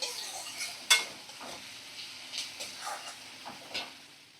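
Potatoes, a fish head and salt frying in a pan, a soft continuous sizzle broken by scattered scraping and stirring clinks of a spatula against the pan, close and moderately quiet.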